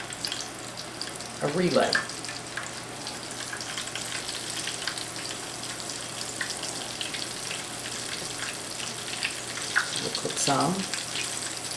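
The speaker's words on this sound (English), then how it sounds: "Mark the sizzle." Southern fried chicken sizzles in a skillet with a continuous crackling hiss, while someone talks over it and brief clatters punctuate the frying.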